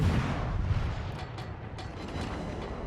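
In a World of Warships naval battle, warship guns boom in deep rumbling volleys, with a few softer distant shots trailing off over a constant low roar.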